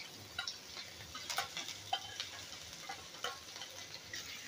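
Grated ginger, garlic and finely chopped green chilli sauté quietly in a pan, giving faint, scattered ticks and light sizzling crackles.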